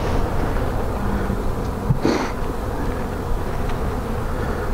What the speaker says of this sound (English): This looks like where the majority of the bees are down here.